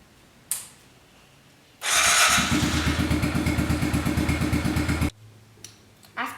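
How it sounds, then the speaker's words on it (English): Kawasaki KLX 110 dirt bike engine idling loud and close for about three seconds as it warms up, with a steady rapid pulsing firing rhythm that starts abruptly and cuts off, faint clicks before and after. "First, you're going to want to start it and let it warm up for about 5 minutes."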